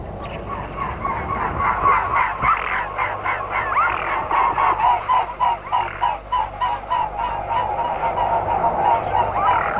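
Wild swans call repeatedly from a flock of returning migrant birds in early March, a dense, overlapping chorus of honking notes pulsing steadily at moderate distance with no voices.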